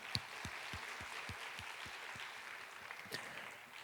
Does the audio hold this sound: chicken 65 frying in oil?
no